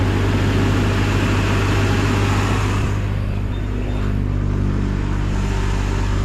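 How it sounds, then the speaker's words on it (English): A 1983 Mazda RX-7 12A rotary engine idling high with a steady droning hum and low rumble, close up, with no voices. "It is idling super high."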